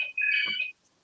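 Fragment of a telephone ring, a single steady electronic tone about half a second long, clear and alone, then silence.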